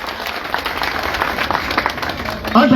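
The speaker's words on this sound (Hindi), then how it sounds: "ताली बजाकर जोर से।" Villagers in Pinana clap loudly and steadily to welcome a guest being honoured with a turban, a dense wash of applause that holds throughout before a voice cuts in at the end.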